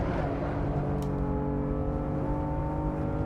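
A BMW M4 in Assetto Corsa pulls hard in fourth gear on the Nordschleife, its engine note holding a steady, loud, rising drone with layered harmonics and no talk over it.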